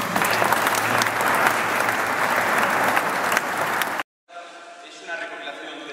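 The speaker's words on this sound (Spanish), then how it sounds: "Sigue un aplauso." Audience applause at a choir's tribute concert in Portomarín: dense, sustained clapping fills the room for about four seconds, then cuts off sharply and gives way to a quieter, different passage.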